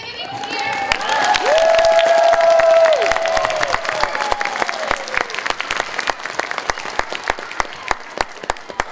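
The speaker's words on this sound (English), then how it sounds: "Let's give it a cheer." Applause and cheering from a preschool assembly audience of children and adults, loud and continuous at first with a tonal whoop, then thinning into scattered claps that keep going to the end.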